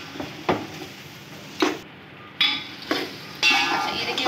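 Beef biryani masala is stirred in a pot, with a few distinct scraping and clinking strokes of a spoon over a low background sizzle, close and moderately loud, separated by short quiet gaps.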